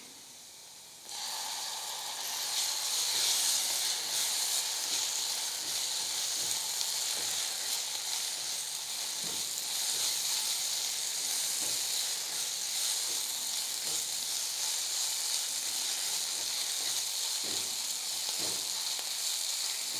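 Ginger garlic masala with chilli and coriander powder sizzles steadily in hot oil for mushroom masala, a loud, continuous frying hiss that begins abruptly and holds evenly with faint stirring clicks underneath.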